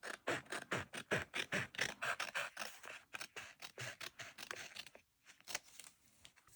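Paper being cut out with scissors for a collage, a run of close, crisp snips and slicing cuts in an uneven rhythm, with a short pause near the end before a few more cuts.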